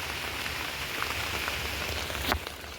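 Steady rain falls on a rainy day, a dense, even hiss of drops on surfaces close by, with a few slightly louder splashes and no voices.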